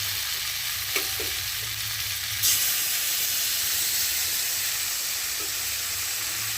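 Spice paste for pabda fish curry goes into hot oil and flares into a louder, hissing sizzle that carries on steadily, heard close with no one talking.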